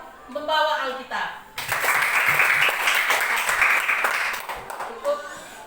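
A church congregation bursts into loud, sustained clapping lasting a few seconds, with a voice speaking just before and after the applause.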